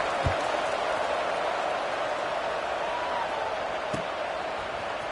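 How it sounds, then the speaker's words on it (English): A packed football stadium crowd at Miami vs LSU keeps up a steady, dense roar throughout, with a couple of brief thuds standing out over the constant buzz. "this crowd is buzzing after that last score"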